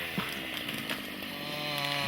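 A chainsaw cuts wood during a forestry harvest, its engine buzzing loud and steady with a high whining tone throughout, no voices.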